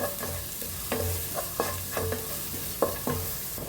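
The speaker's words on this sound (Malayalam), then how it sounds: "അപ്പോൾ അതൊന്ന് ഇളക്കി കൊടുക്കാം" Spiced egg pasta stirred in a pan, a series of regular scraping strokes of the spoon against the metal every half second or so over a gentle frying sizzle, close and clear.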